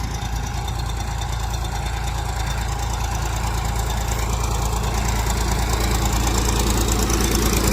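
A tractor engine runs steadily nearby, a loud continuous diesel rumble with an even chugging beat from start to finish.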